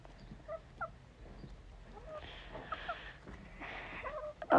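Backyard fowl give scattered soft clucks and throaty calls, faint and close, in irregular short bursts with a louder call at the very end.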